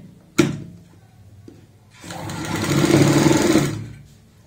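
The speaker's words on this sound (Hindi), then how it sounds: "अब हमें यहाँ पे सिलाई लगानी है" Sewing machine stitching a seam on a pair of capri pants at home: a sharp clack first, then a steady whirring run of stitching lasting under two seconds that swells and fades, close and fairly loud.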